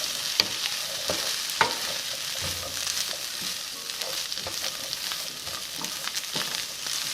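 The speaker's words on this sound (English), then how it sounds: "we're gonna give this a quick mix" A chorizo breakfast quesadilla mixture is stirred in a hot pan. A constant close sizzle runs throughout, broken by repeated scraping strokes of the utensil. No one speaks.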